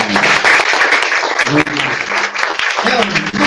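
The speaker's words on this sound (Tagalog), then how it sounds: "isa pang malakas na palakpak pa sa Panginoon" Congregation at a live church service giving the Lord another loud round of applause, a dense, close burst of many clapping hands with voices and cheers mixed in.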